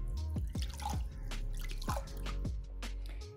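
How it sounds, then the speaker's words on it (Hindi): Unglazed clay cooking pot submerged in water, giving off a run of small irregular drips and bubbling pops against a low steady background, fairly quiet and close. "यहाँ हम इसको पानी में डाल रहे हैं, ये पानी पिएगा इसमें बुलबुले बनना शुरू हो जाएंगे।"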